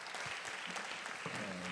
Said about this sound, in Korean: 우리 따뜻한 박수로 환영해 주시면 감사하겠습니다.